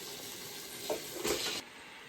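Cleaned Tyson chicken, about 1.5 kg, drops into masala frying in a pan for Tulu-style chicken sukka, giving a short burst of hissing sizzle that fades after a moment.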